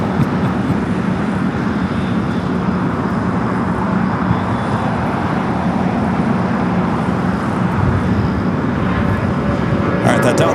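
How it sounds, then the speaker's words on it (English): A Delta Boeing 757 jet taking off at LAX, bound for Atlanta, gives a loud, sustained engine roar with a broad rushing rumble, and faint ground noise mixed in throughout. "that Delta 757 heading to Atlanta"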